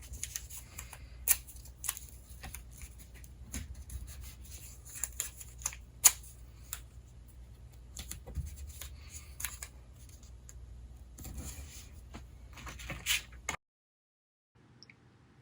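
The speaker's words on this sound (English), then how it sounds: "Then use some of that masking tape to pin this down." Masking tape handled to pin down paper for tracing a watercolor butterfly: scattered close, quiet crinkles, pulls and taps with irregular gaps, ending in silence.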